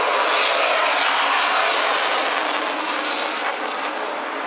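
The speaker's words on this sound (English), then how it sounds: "We're having to crane our necks to see Mark at times in the Typhoon." An RAF Typhoon fighter jet roars overhead at the Clacton air show, a loud, broad, continuous rushing jet noise that holds steady and fades only slightly.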